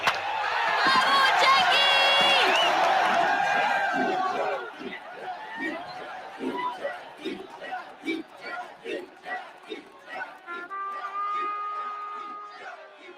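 A crowd of Montrealers cheers loudly at a baseball game in Jackie Robinson's era, a dense roar for the first few seconds that then breaks into rhythmic bursts of shouting and chanting, with voices mixed in.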